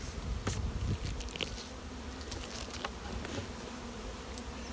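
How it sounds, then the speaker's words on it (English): Many honey bees buzz in a dense, steady drone close by around an opened hive, with individual insects whirring past now and then. "And now we can see the bees."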